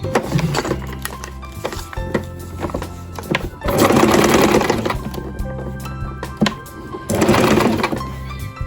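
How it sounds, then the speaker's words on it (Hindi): Sewing machine stitching fabric strips onto trousers, a loud continuous mechanical whir with rapid needle rhythm, running in several bursts of varying intensity with brief pauses between. "अब मैं दूसरी तरफ भी इसको बैलेंस करते हुए एक और सिलाई लगा लूँगी"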